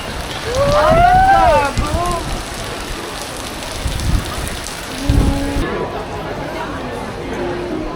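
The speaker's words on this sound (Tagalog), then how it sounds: "Lakas ng ulan" Heavy rain falls steadily on a street in Tokyo, a broad hiss of drops on surfaces, with people talking nearby throughout.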